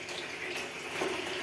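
Water runs from a pipe into a bathroom, a soft steady splashing flow that stays faint throughout the brief moment, with no talking.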